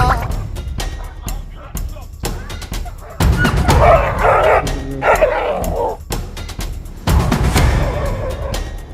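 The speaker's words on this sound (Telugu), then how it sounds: "World's most dangerous dog." A dog at a dog park barks and yips in several sharp bursts up close, mixed with excited people talking and other park noise.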